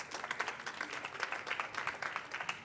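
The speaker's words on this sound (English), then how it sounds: "Big applause for wesmartPark." Audience applause at a smart-city startup awards event in Barcelona, a moderately distant, steady patter of many hands clapping without breaks.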